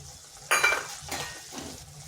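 A spice paste is stir-fried in a pan for a vegetarian cauliflower dish. Two or three short scraping, sizzling strokes stand out against quiet, with no talking.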